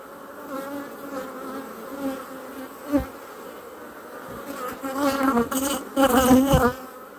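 Honeybees buzz around an opened hive during an inspection, a dense steady drone up close that swells louder toward the end, with a sharp knock partway through and no voices.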